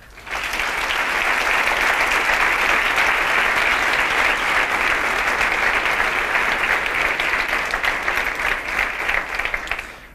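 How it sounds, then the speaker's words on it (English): Sustained audience applause at the Aarhus Symposium 2014 award ceremony, swelling quickly to a loud, even roar of many hands and holding steady for about ten seconds before tapering off. "Please help us give them all a big round of applause."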